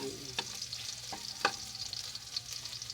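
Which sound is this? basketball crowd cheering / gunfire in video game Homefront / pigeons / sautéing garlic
sautéing garlic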